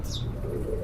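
A Sialkoti pigeon, the black-faced kind, coos briefly at close range, a low soft call with a faint chirp above it, no voices present.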